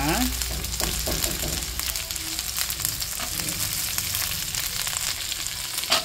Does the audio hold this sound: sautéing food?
yes